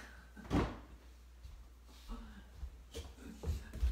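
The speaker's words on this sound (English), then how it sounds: "Hold on, I gotta close this door." An interior door in an old house is pushed shut, giving a couple of soft thuds and a latch click with light handling noise at moderate distance, no talk over it.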